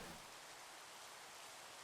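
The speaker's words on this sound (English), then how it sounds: "It's annoying to record in the rain because you have to compete" Steady rain falls as a soft, even hiss, faint and continuous with no other sounds over it.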